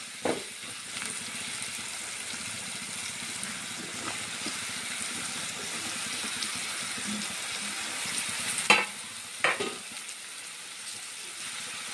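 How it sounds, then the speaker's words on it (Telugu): Two medium chopped tomatoes fry gently in oil for a raw banana curry, making a soft, steady sizzle with a couple of brief clinks near the end. "ఆయిల్లో కాస్త వేపుకుంటే సరిపోతుంది."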